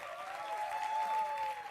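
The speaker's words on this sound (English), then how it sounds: "A big round of applause for all our actors." Brief, faint applause for the actors after a performance, a soft distant patter of clapping lasting under two seconds.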